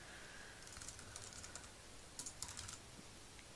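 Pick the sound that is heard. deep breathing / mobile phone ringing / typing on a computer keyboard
typing on a computer keyboard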